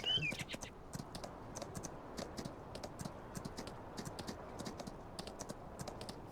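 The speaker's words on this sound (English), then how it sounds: "sit here and listen to the horse gallop" Hooves of a horse in the video game Farming Simulator 19 beat in a quick, steady galloping rhythm, crisp and close, continuing without pause over a quiet background.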